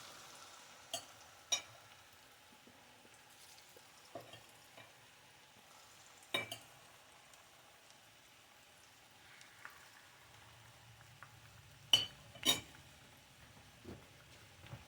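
Sweet plantains fry in a pan with a faint, quiet sizzle under occasional sharp clinks and taps, with a low bubbling rise toward the end.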